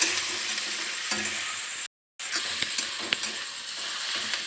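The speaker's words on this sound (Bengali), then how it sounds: "এবার পেঁয়াজটা ভালো করে ভেজে নেবো" Sliced onions fry with cinnamon, cloves and cardamom in a pan, giving a steady close sizzle broken by a brief silent gap, with occasional scraping stirs and soft clicks.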